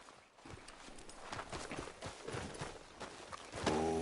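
A horse's hooves clip-clopping at a steady walking pace in Red Dead Redemption 2, close and fairly quiet, with a brief louder sound near the end.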